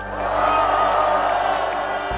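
Rally audience at a political impeachment protest, sustained crowd applause and cheering as a broad wash of noise, fairly loud and steady throughout.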